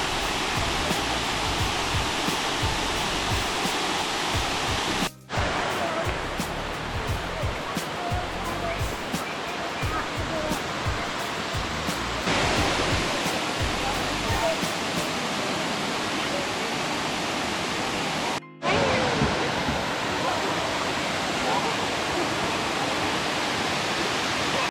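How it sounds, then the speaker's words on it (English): A waterfall on the Blue Ridge Parkway cascades down over layered rocks, a loud, steady, broadband roar close by that barely varies, with two brief dropouts. "I absolutely love these kind of waterfalls because of all the rocks as it just cascades down"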